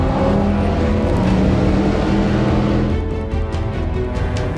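Race cars on the Nürburgring Nordschleife roar past in a loud, continuous engine drone that thins out slightly toward the end, with no talking.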